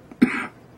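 A single sharp cough bursts out close and loud, followed by a brief rough throat sound that fades quickly into quiet room tone.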